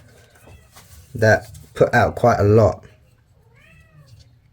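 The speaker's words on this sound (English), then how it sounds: "that's my cat, by the way. She wants to go outside" Young female kitten meowing a few times in a quick series at close range, with a person's speech before it.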